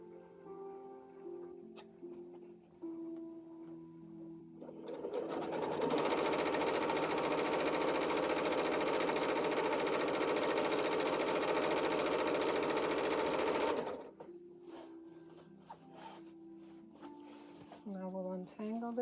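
A sewing machine runs one long continuous burst of stitching on an apron, loud and close for about eight seconds, with quieter talk and handling noises before and after.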